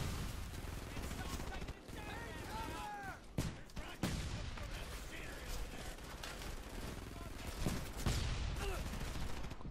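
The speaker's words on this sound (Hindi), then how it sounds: "एनिमी का एमजी है," An enemy sentry machine gun fires in Frontlines: Fuel of War during a loud, continuous battle with rattling bursts and sharp impacts, while someone talks over the combat.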